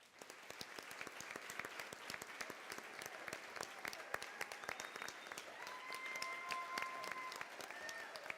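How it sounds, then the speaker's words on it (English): Audience applause at a city's State of the City address, a dense, steady round of clapping from a large crowd that carries on throughout, with faint voices and scattered whistles rising over it near the end. "I'm going to ask you that you please join me in a big round of applause to them"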